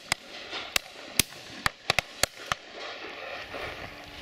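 Shotguns fire at a partridge shoot, with about eight sharp, distant reports spaced irregularly over a few seconds across open countryside, then only faint outdoor background.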